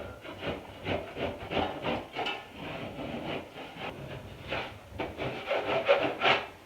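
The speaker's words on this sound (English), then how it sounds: "get my knife in under and pull it off of the ceiling" A knife scrapes textured popcorn coating off a ceiling in repeated rhythmic rasping strokes, close and moderately loud, with no talking.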